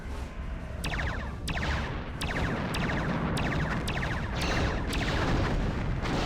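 Torpedo explosions in a Star Trek starship battle game, with a Klingon Bird of Prey in the fight, come as a rapid series of loud, crackling booms at roughly half-second intervals over a dense, continuous roar.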